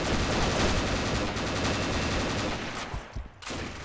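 Rapid bursts of automatic gunfire from the video game Combat Arms rattle loudly and continuously, then break off briefly near the end with a few scattered shots.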